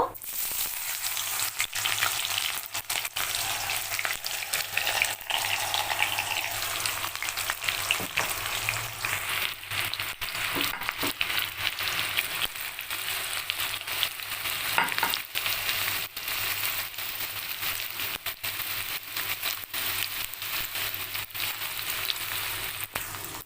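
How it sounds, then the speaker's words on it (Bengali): Chopped onions, bay leaf and whole garam masala fry in hot oil for a pumpkin mutton dish, giving a steady, dense, close sizzle with occasional stirring scrapes and no voice. "কেটে রাখা পেঁয়াজ তেজপাতা গোটা গরম মশলা হালকা একটু ফ্রাই হবে"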